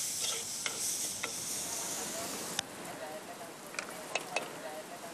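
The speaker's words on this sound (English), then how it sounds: "I'm going to put all of these onions and garlic and chili and ginger into here" Onions, garlic, chili and ginger fry in a pan with a soft continuous sizzle, broken by a few sharp clicks and scrapes of stirring, fairly quiet and close.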